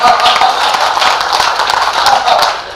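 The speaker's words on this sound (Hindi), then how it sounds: "इनकी समस्त टीम के लिए जोरदार तालियां बजाएं" Audience in an auditorium applauding a team, a loud, continuous stretch of crowd clapping with faint voices mixed in.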